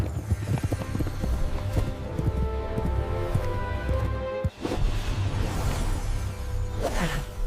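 Steady clip-clop of horse hooves trotting at a lively pace, close and fairly loud, with a brief whoosh midway.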